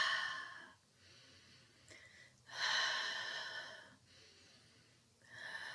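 Slow, controlled breathing exercise with short inhales and long exhales: several soft, airy breaths rise and fall in a steady rhythm, close and quiet, with no talking.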